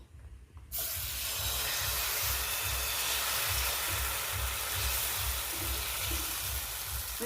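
Batter hits a hot oiled pan and a steady, loud sizzle starts at once, a dense crackling hiss that continues evenly without any talk.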